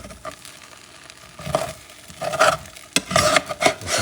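Ground beef and rice being stirred in a pot for Puerto Rican arroz con carne molida: several scraping, rasping stir strokes against the pot, close and fairly loud, with a soft sizzle underneath and no talking.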